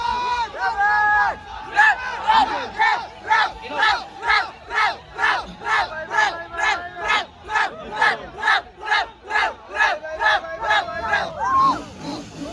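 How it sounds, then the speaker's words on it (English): Crowd at a Royal Enfield Super Meteor 650 motorcycle launch at Rider Mania 2022 chanting loudly in unison, rhythmic repeated shouts pulsing about twice a second, near and strong throughout. "I want to hear the crowd."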